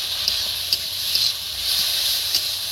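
Mashed pointed gourd going into a hot pan with black cumin, giving a steady, close, loud hiss with faint spatter ticks throughout.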